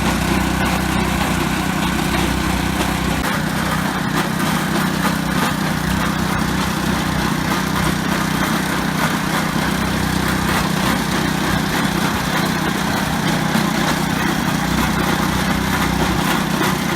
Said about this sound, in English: A good tiller will have a great big weight in the front that helps counterbalance some of the weight.